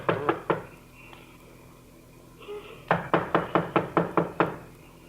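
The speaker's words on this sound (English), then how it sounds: "Well, knock on the door anyhow." Door knocking staged as a radio drama sound effect: three quick raps, a pause, then a longer run of about eight firm, evenly spaced knocks, close and dry.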